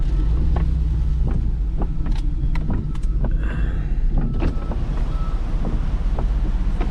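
Strong hurricane winds from Hurricane Ian buffet the microphone in a steady, loud roar, with storm surge water sloshing around and scattered sharp knocks and splashes throughout; no one speaks.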